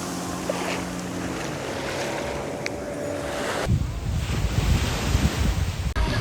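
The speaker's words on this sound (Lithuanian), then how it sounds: "Atėjom į bičą. Na va, paplūdimėlis toks." Surf washing onto a beach in Sri Lanka, a steady broadband wash with wind buffeting the microphone, growing louder and rougher partway through as the waves break closer; no talking.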